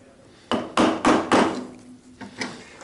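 A mallet striking a chisel to chop a mortise in timber, several solid woody knocks in quick succession followed by two lighter taps, close and dry.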